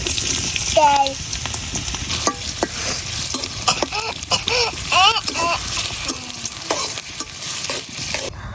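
Onion frying in hot oil in a wok for rural fried rice, a continuous close sizzle with stirring scrapes, while voices and other sounds come in now and then over it.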